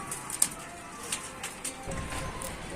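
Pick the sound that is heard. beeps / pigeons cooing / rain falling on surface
pigeons cooing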